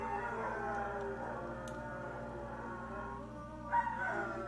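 Neighbor's dogs howl faintly in the distance, long wavering tones drifting over a low steady hum, with a brief louder cry near the end.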